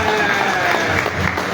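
Audience claps at an official opening ceremony, a steady wash of applause with a crowd murmur mixed in, fairly loud and sustained over the short stretch.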